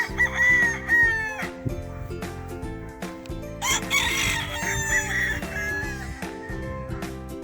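A Bulik gamefowl rooster on a game farm crows loudly and nearby in several long calls, with other fowl clucking and crowing in the background.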